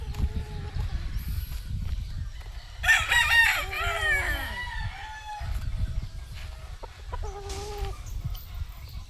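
A straight gray gamecock rooster gives a full, close crow followed by a shorter second call, outdoors with steady wind noise and no talking.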